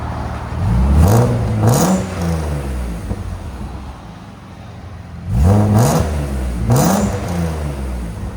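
A 1986 BMW 325es with an M3 engine swap and Magnaflow exhaust revs in two pairs of quick throttle blips, each rising and falling, loud and close with a rumbling idle between them.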